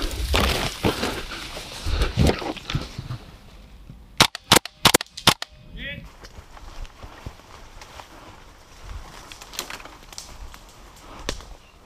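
A burst of sharp, crisp shots from an airsoft gas blowback rifle snaps out in quick succession outdoors among dense bushes, with rustling and movement around it.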